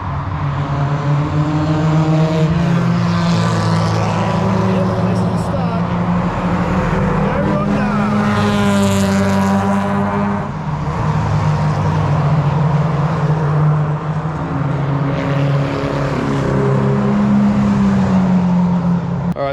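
Race cars circle a track during an endurance race, among them a CL9 Acura TSX racecar; a steady, loud engine drone runs throughout, with pitch rising and falling as cars pass, and talk can be heard over it.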